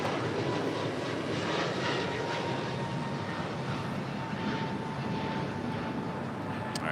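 An Asiana Airbus A380 taxiing at an airport makes a continuous broadband jet rumble and rush with a thin steady whine, holding at an even, moderately loud level throughout with no talk.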